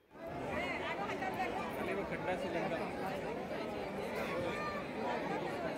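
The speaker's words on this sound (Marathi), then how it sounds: "तर बघू शकता बाहेर किती पब्लिक आहे" Dense crowd of devotees at the Shri Gajanan Maharaj temple, a steady, close murmur of many overlapping voices and chatter that fills the whole stretch without pause.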